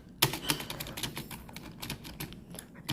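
Typing on a gaming keyboard, close crisp key clicks in an irregular quick patter, a few sharper strokes standing out, with no voices.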